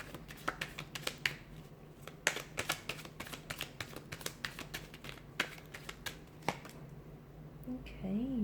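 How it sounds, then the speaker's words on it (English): Tarot cards are shuffled close up in a long series of sharp riffling snaps and flicks, irregular in rhythm, with a brief voice at the end. "Let's give the cards a shuffle"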